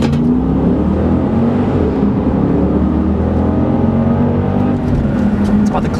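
A Jeep Grand Cherokee SRT8 with a V8 engine at full throttle on a road drive, heading hard into a curve: a loud, deep, steady engine roar with rising harmonic tones, heard from inside the car.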